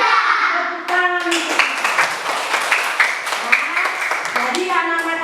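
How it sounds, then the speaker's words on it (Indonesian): Children clapping hands in unison in a classroom, rhythmic bursts of close clapping interleaved with sung or chanted children's voices. "Tepuk tangan."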